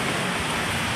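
Rain hisses steadily onto a third-story balcony, a dense, even wash of falling water heard alone for a brief moment.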